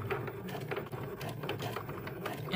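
A Cricut machine draws letters with an infusible ink pen, its carriage giving a close, continuous mechanical whir broken by quick clicks and ticks.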